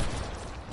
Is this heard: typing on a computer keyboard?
no